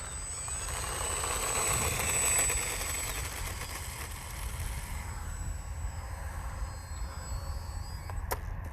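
An FMS Zero 800mm RC plane's electric motor runs at low throttle, a faint steady whine heard from a distance over outdoor ambience, with no talking.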